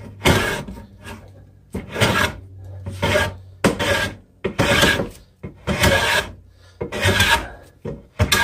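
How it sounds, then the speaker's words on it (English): A wooden board is hand-sanded down to 100 grit with rhythmic back-and-forth strokes, about eight loud raspy passes in a steady pattern. "then you sand it down"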